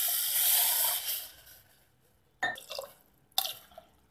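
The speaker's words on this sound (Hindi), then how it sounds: "ये 2 पतीली मैंने पानी डाला है।" Water poured from a pot into cooked dal for Gujarati dal dhokli, a steady close splashing pour for about a second, then silence and two short sharp splashes.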